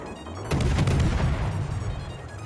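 Naval gun salvos fire in World of Warships, a heavy booming burst followed by a rumbling, sustained roll of blasts that fades slowly.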